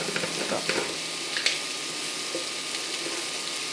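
Steady sizzling of eggplant and shallots sautéing in a pan, with occasional light clinks and stirring sounds over the constant hiss.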